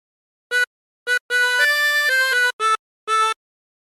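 A phrase on a chromatic harmonica: a run of clear reedy notes, short separated blows and draws followed by a longer connected stretch with pitch steps, then two more short notes, solo and close.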